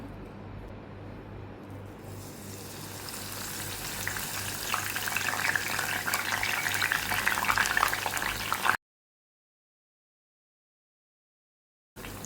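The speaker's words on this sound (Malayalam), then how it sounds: "ആ ഒരു വെളുത്തുള്ളിയും കറിവേപ്പിലയും ഉണ്ടല്ലോ, അതിനെ ഒന്ന് വറുത്തിങ്ങെടുക്കണം" Garlic and curry leaves crackle and sizzle steadily as they fry in oil, growing louder and busier after a moment, then cutting to silence before resuming briefly.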